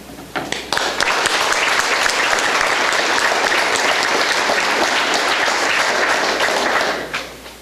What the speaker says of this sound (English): At this time, we would like to applaud all those who ran.